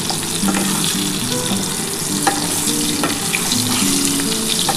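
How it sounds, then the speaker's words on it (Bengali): Potatoes fry in oil in a pan for a Bengali chicken and potato curry, making a loud, dense, even crackle with occasional stirring knocks and no speech. "বন্ধুরা দেখো, আলুটা কিন্তু একটু লাল লাল করে ভেজে নিচ্ছি।"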